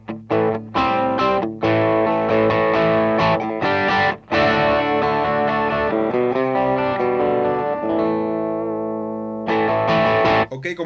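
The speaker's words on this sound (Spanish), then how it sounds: "Este es el tono con distorsión del ampli." An electric guitar played through the amplifier's distortion channel set to low gain, strummed chords and short phrases ringing bright with light grit, with brief pauses between.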